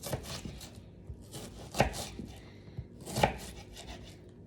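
A knife chopping an onion on a cutting board while making stew chicken, a few soft, irregular cuts with two slightly sharper knocks, faint and close in a quiet kitchen.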